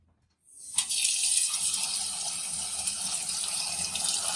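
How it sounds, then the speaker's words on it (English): Water gushes steadily from a kitchen pot filler faucet, starting abruptly after a brief silence and running loud and constant close by with a hissy, splashing rush. "This is called a pot filler"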